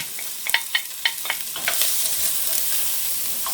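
Sweet potatoes frying in a pan as chopped onion is added for a turkey pot pie, with a few sharp stirring scrapes at first, then a steady close sizzle.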